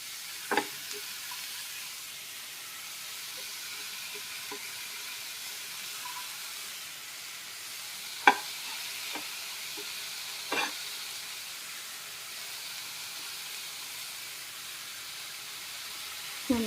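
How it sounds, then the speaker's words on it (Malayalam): Spinach leaves in a pan with salt and fenugreek powder give a faint, even sizzle, punctuated by a few sparse knocks of a spoon stirring, quiet and close with no speech. "നന്നായിട്ട് ഇളക്കി കൊടുക്കാം."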